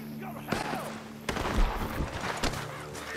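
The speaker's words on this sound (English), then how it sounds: "The gunshots are coming from that barn." Gunfire in Red Dead Redemption 2 coming from a barn, a burst of loud sharp reports and a cluster of shots near the end, mixed with game sounds and background music.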